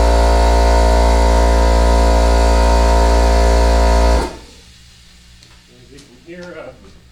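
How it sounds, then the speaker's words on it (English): Air compressor droning loudly and steadily nearby for about four seconds, then shutting off abruptly, leaving a quiet room where a person begins to speak. "Hear an air compressor going in the background"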